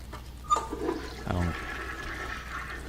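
A toilet flushes in the video game Heavy Rain, a short watery rush with a gurgle, fairly close and moderate, followed by a faint trickling tail.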